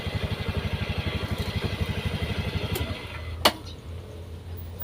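A Honda BeAT motorbike engine runs close by with a steady pulsing chug that drops to a lower idle near the end, broken by a brief sharp knock.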